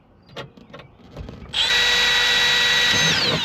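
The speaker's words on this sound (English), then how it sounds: "Just make sure when you're drilling these holes" A power drill boring holes in the steel door of a 1980s Chevrolet Silverado or GMC Sierra squarebody truck to mount speakers, close and loud: a few soft knocks, then a steady high whining drill run that holds to the end.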